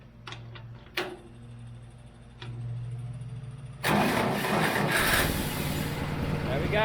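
An International Harvester tractor engine, just fitted with a new starter solenoid, starts after a key click and a brief cranking whir, then settles into a loud, steady running rumble nearby.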